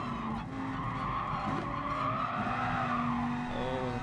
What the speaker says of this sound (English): Oh, the car's starting to slide on that corner again.